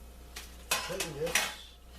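Dishes and cutlery clatter while Mexican pizza is plated, with a few distinct clinks and scrapes over about two seconds and a brief murmur of voice in between.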